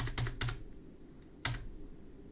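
Arrow keys on a computer keyboard are tapped while a texture is placed, a quick cluster of three crisp clicks followed after a pause by one more, close and fairly quiet with no talk.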